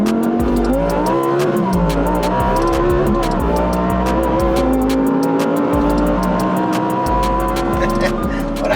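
A Lamborghini Huracan Tecnica with an aftermarket exhaust roars loud and close, its engine revving up and down through rising pitch sweeps with crackling overrun pops, while people talk over it.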